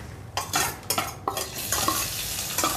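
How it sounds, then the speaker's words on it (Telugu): Onions frying in a pan and being stirred, a steady soft sizzle with several scraping strokes of a spoon against the pan, close by and with no talking. "ఉల్లిపాయ కాస్త వేగింది."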